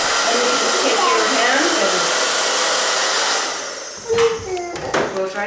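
A hair dryer blows loudly and steadily on bangs for about four seconds, then cuts off, leaving brief handling noises and light rustling up close.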